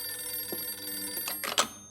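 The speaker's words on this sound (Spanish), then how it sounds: "Chabela, conteste el teléfono." A telephone rings in a home, a few bright trilling bursts near the end after a quiet stretch, moderately loud and nearby with no one speaking.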